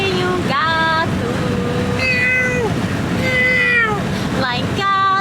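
A human voice imitates a cat's meow several times, each a drawn-out sung mew with rising and falling pitch, over constant background noise and music.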